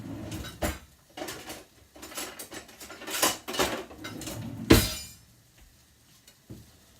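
A spatula scrapes and taps around the edge of a frittata in a pan, giving bursts of metallic scraping and clinks in an uneven rhythm, close up, with quieter pauses and no talking.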